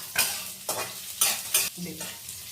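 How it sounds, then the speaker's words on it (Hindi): Mushrooms, carrots and onions fry lightly in a pan, with a gentle sizzle broken by four distinct scraping stir strokes in a loose rhythm, close and moderately loud, with no talk. "गाजर प्याज सब कच्चा खाया जाता है, इसलिए हल्का हल्का भूनना है।"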